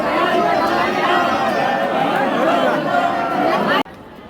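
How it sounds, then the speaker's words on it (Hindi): A large crowd of devotees at Omkareshwar Jyotirlinga temple in Madhya Pradesh fills the space with dense, steady chatter and babble. Many voices overlap close by before the sound cuts off abruptly near the end. "आप देख सकते हैं यहाँ पर इस वक्त ज्योतिर्लिंग के दर्शन करने के लिए कितनी ही ज़्यादा भीड़ है।"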